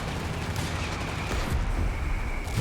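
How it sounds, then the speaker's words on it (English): Mortar and artillery fire in a Company of Heroes 3 battle, with dense, rumbling booms and gunfire that stay loud and continuous throughout. "Very much mortar up here"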